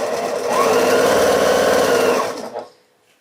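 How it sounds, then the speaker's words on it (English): A sewing machine stitching a diagonal seam on a quilt star block, one continuous loud whirring run of about two seconds that winds down and stops, with no talk. "I'm just going to sew a diagonal."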